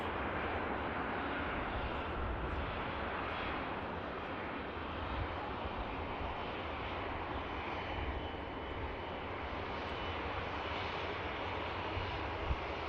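An Airbus A350 at Manchester Airport, a loud sustained broadband engine roar that holds steady throughout as the jet passes nearby, with no talk over it.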